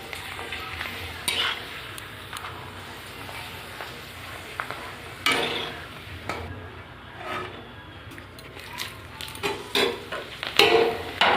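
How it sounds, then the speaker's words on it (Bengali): Papad frying in hot oil, a soft ongoing sizzle broken by scattered crackles and scrapes of a utensil against the pan. "এবার আমি একটা একটা করে পাঁপড় ভেজে নেব।"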